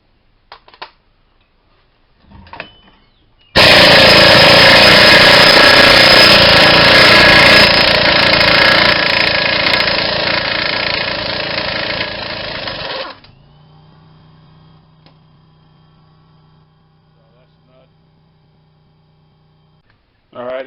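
A power tool takes off a rusty 32 mm axle nut on a 2008 Ford Escape. It runs as one loud, continuous rattling drone for about ten seconds, then stops, leaving a low steady hum. Faint clicks come before it starts.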